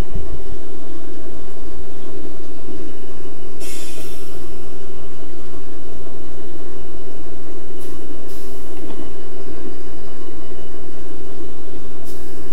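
Locomotive 9299 in Train Simulator 18 on Marias Pass runs with a loud, steady engine drone and rail rumble. Brief hissing bursts of air come at intervals.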